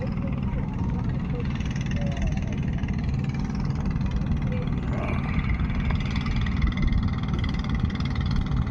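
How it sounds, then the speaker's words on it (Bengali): A trawler boat's engine drones steadily as it passes under the Padma Bridge on the river. It is a loud, continuous low rumble mixed with wind-like noise, unchanging throughout. "খুবই দ্রুত গতিতে চলে যাচ্ছে ট্রলার তার নিজ গন্তব্যে, পদ্মা ব্রিজের নিচে দিয়ে।"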